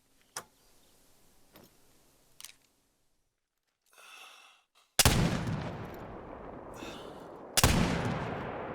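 Rifle shots from a Curman .50 inline muzzleloader in theHunter: Call of the Wild, two loud blasts a few seconds apart, each with a long rolling outdoor echo, preceded by faint clicks and handling sounds.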